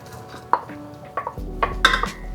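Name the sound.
adding chopped chocolate into milk in a pan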